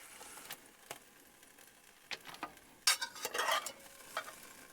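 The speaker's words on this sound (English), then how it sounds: "we're just going to set the pork chops aside and add in the mushrooms and the onions" Mushrooms and onions frying in leftover pork chop grease at a winter campsite, with scattered crackles and a louder burst of sizzling and stirring partway through, no voices.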